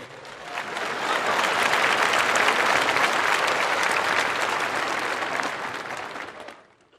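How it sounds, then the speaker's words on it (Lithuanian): An audience breaks into sustained applause, clapping swelling quickly to a full, dense roar that holds for several seconds before fading out near the end. "Paplokit, modelis bėga."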